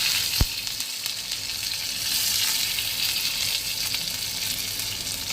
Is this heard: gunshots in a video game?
no